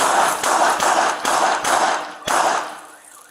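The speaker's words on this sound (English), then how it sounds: "Your alarm's going off!" A car alarm goes off during a police standoff with an armed homeowner, sounding as a loud run of evenly spaced, harsh blaring pulses that fades slightly at the end.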